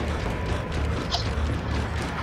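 In the video game Gears of War 5, a metal door is forced and bent open, giving a steady, loud grinding and creaking mechanical noise with a brief metallic squeal partway through.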